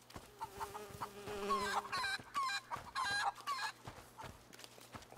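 A chicken clucks repeatedly in A Plague Tale: Innocence, a series of close, loud squawks and clucks over a faint steady hum and buzzing insects, with no talking.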